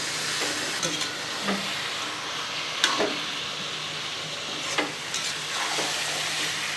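Chicken with turmeric powder sautéing and being stirred in a pan, a steady frying hiss with occasional scraping clinks of the utensil, close and continuous, no talk.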